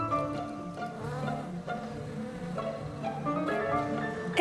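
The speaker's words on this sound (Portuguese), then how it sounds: "Essas minúsculas abelhas sem ferrão têm apenas 3 milímetros de comprimento." Tiny stingless Mopane bees, about three millimetres long, buzzing at the waxy entrance tunnel of their nest in a hollow tree trunk in the Luangwa Valley; a close, continuous droning hum with shifting wingbeat pitches.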